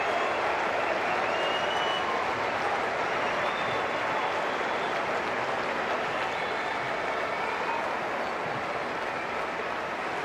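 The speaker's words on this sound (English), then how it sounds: "And a fitting round of applause for Wayne Rooney." A large stadium crowd at a football testimonial match applauding steadily, a dense, continuous roar of clapping that fills the whole stretch without letting up.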